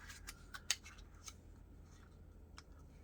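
Scissors trimming paper for a junk journal: a few quiet, sharp snips at irregular intervals, one noticeably louder, against a faint room background.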